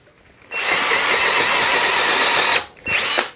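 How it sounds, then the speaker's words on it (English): A Hercules 20v brushless or Flex 24v cordless drill bores pilot holes halfway into wood, running loud and steady at close range for about two seconds, then stopping and briefly spinning up again. "we're going to be drilling 2 holes, two pilot holes about halfway through, just to prevent the wood from stripping."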